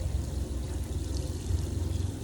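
Leaking household water pouring out in a strong, steady stream, a continuous close gushing rush with no pauses and no voices.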